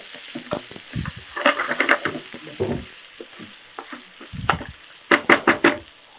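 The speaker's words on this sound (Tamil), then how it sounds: "இதை வந்து ஒரு 4 நிமிஷம் லைட்டாக வதக்கி எடுத்துக்கலாம்." Chopped onions sautéing in a pan for a chicken and potato curry, a steady close sizzle broken by repeated scraping stirs and spoon knocks, busiest near the end, with no voices.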